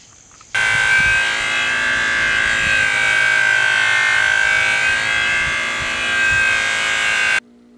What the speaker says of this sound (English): all I have left to do is to use the buffing wheel